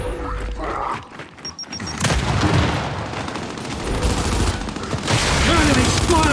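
A frag grenade blast and rapid gunfire in the Gears 5 versus multiplayer mode King of the Hill, with loud bursts of shooting and booms running continuously and building toward the end.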